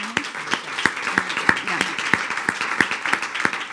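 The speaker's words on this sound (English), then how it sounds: "I'd like y'all to give a round of applause to" Audience applause at a Springdale Public Schools board meeting for a National History Day program helper, a moderate crowd clapping steadily with sharp, uneven claps close by, lasting the whole stretch.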